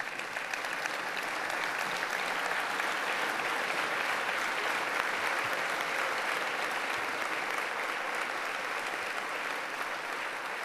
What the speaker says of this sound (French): Je voudrais que vous puissiez vous lever pour une ovation